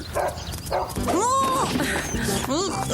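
A dog yips and makes rising, whining barks several times up close, mixed with a person's voice and background noise.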